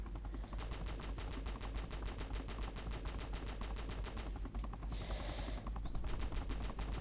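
Rapid automatic gunfire in the Roblox video game, a dense continuous rattle of shots with a steady low hum underneath, fairly close and unbroken throughout.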